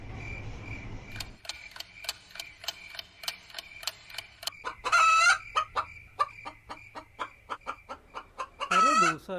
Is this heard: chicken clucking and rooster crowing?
yes